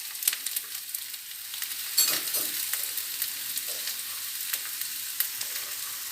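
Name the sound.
potatoes sizzling as they go into the pan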